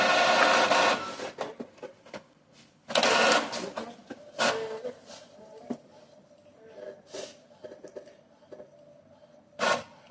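An Epson EcoTank L6270 color printer prints a head alignment page, giving several bursts of close mechanical whirring and clacking feed noise with quieter gaps between them.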